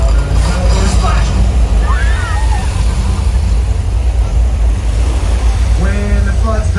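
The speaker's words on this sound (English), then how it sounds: "Oh my goodness, here it comes, a flash flood." A flash flood effect at the Universal Studios Hollywood theme park: loud, continuous rushing water roaring close by for the whole stretch, with crowd voices and excited speech over it.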